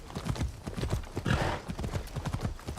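A summoned horse in a video game galloping, rapid rhythmic hooves clip-clopping continuously at close range, with a brief whinny-like swell midway.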